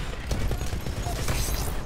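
Rapid friendly gunfire crackles through a dense, noisy stretch of Titanfall battle, steady and loud with no break.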